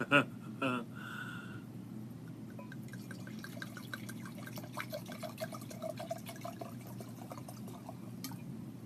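Red wine pours into a glass in a steady, gurgling trickle for several seconds after a few brief clinks at the start, fairly faint and close, with no talking over it.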